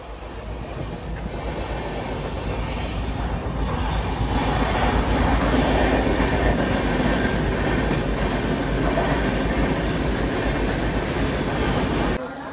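A train at Dadar railway station rumbles and rattles in a steady, loud wash of wheel and carriage noise for about twelve seconds, cutting off abruptly at the end.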